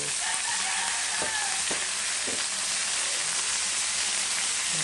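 String beans sautéing with aromatics in a hot pan, a loud, even sizzle and crackle filling the whole stretch, with a few soft knocks of stirring underneath and no talk.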